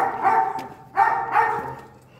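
A Belgian Malinois on a farm barks loudly and close, giving three quick barks in a short run.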